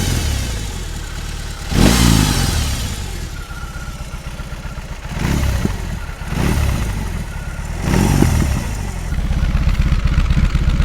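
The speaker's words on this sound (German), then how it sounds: "Und die blubbert auch richtig schön vom Auspuff." A BMW R18 Transcontinental with a boxer engine burbles from its exhaust at idle, rising into several loud revs spaced a few seconds apart before settling back.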